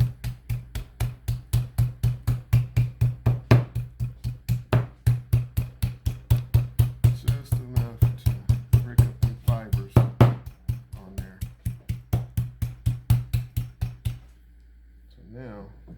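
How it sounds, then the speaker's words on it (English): A mallet pounds deer tenderloin in a steady, fast rhythm of dull thuds, about three per second for fourteen seconds, close and even, then stops into near silence. "I think I'm gonna take the mallet to it also."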